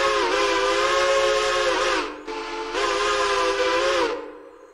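A CNJ three-chime steam train whistle in the Railroader game sounds two long, loud, close blasts of rich harmonic chord, with a brief gap between them and a hissing tail as each one fades.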